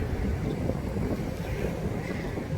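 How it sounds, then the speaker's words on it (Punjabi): Cold wind blows outdoors and buffets the microphone, making a steady low rumbling roar throughout. "ਤੇ ਹਾਂ ਠੰਡੀ ਹਵਾ ਚੱਲਦੀ ਆ"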